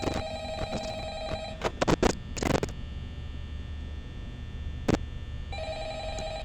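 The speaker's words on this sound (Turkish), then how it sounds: "Evet telefon çaldı." A telephone rings in Five Nights at Freddy's, repeating trilling electronic bursts that start, pause and resume, over a steady low mains-like hum, with a few brief clicks and knocks between rings.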